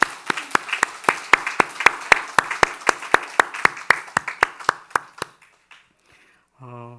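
Steady rhythmic clapping from a church congregation at a Sunday service, about two dozen sharp even claps that stop abruptly, followed by a short tonal sound at the end.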